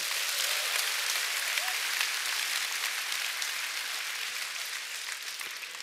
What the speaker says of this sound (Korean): 오늘 그 한 사람은 바로 접니다 하시는 분은 본인에게 큰 박수 보내주시기 바랍니다